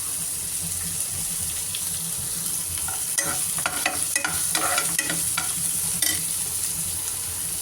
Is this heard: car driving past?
no